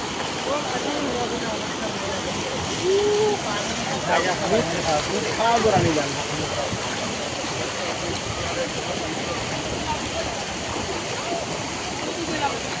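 Floodwater rushing over Ratanpur road, a constant broad roar of flowing water with brief splashes, while people talk over it.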